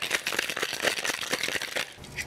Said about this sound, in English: And now we shake, shake, shake.